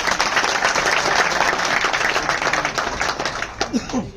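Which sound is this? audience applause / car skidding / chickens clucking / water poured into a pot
audience applause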